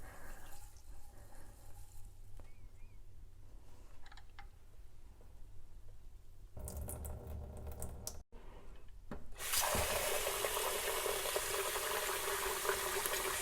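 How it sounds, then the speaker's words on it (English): Tap water running into a sink as starch is rinsed out, the flow quiet and trickling at first, then turning loud and steady with a broad hiss in the closing seconds. "And then I will rinse it for about 3 to 4 times or until the water becomes clear."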